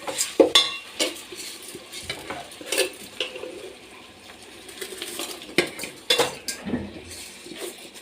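A spoon scrapes and clinks against a pan as dry semolina is stirred and toasted, with irregular metallic taps and a faint rustle throughout.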